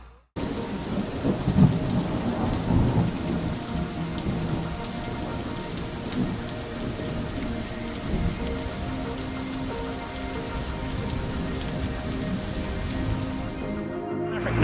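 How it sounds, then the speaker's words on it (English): Rain falls steadily across hills in rural Isaan, Thailand, a broad continuous hiss with low rumbling thunder underneath, heard alone without talk for the whole stretch. "you could actually hear the rain falling"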